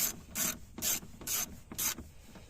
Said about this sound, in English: Put it on tighten, and you can go ahead and tighten these bolts down